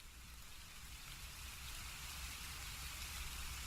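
Steady rain from a phone app plays as a constant, even hiss with a low rumble underneath, fairly faint and unbroken throughout.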